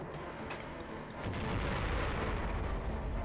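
Heavy gunfire and artillery blasts in the military shooter Conflict: Desert Storm 2, a dense, continuous rumble of booms and shots that swells louder midway and stays loud and close.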